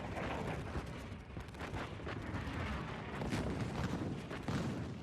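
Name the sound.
WWI creeping artillery barrage at Vimy Ridge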